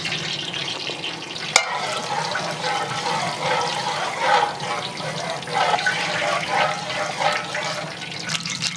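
Mustard seeds and fenugreek fry in hot coconut oil in an uruli pan, producing a continuous crackling sizzle close up, with a sharp click early on and no talking.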